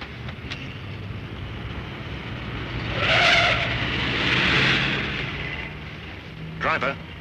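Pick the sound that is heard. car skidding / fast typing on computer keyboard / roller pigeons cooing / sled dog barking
car skidding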